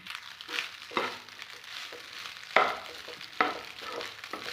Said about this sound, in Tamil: அதனால் இதில் சாதம் போட்டு கிளறிடலாம்